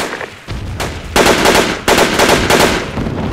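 Rapid machine-gun fire and gunshots in the Project Reality military shooter game, a sustained loud burst of automatic fire with brief pauses, heard alone without talk.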